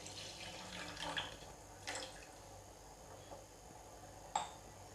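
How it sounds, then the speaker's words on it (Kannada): Water being added to a pot of rice boiling on the stove in a home kitchen, heard as faint splashes and pouring with a few sharper drips and clinks against the pot, quiet and intermittent. "ಇದಕ್ಕೆ ಎಕ್ಸ್ಟ್ರಾ ಒಂದು ಸ್ವಲ್ಪ ನೀರು ಹಾಕೊಳ್ಳೋನು."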